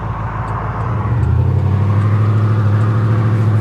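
Ford F150 engine running close and loud, its low rumble uneven at first and then settling into a steadier drone, with no voices over it.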